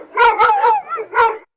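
A dog gives a few close, loud barks and yelps in quick succession, at home during a game of recognizing pet dogs by sound alone.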